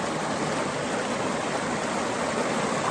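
Fast-flowing stream water at the Gunung Pulai waterfall area gushes in a loud, dense, continuous rush close by, with no speech over it.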